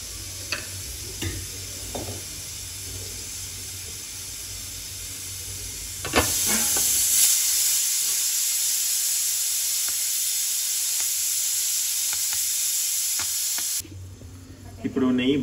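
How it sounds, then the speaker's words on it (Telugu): Ghee heating in a pan for tempering, a steady loud sizzle and hiss that swells sharply partway through and then cuts off, with occasional clinks and people talking faintly. "పోపు కోసం నేను నెయ్యి వేసుకుంటున్నాను"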